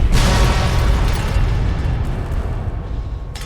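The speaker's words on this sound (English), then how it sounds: "That was a pretty explosion." A loud, close explosion in Fallout: New Vegas bursts at once and then rolls into a long, rumbling roar that slowly thins out over a few seconds, with no talk over it.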